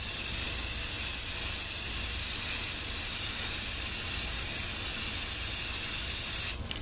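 A spray can lays a thick clear coat onto a car headlight in one long, steady, close hiss lasting several seconds before it cuts off, with no voices.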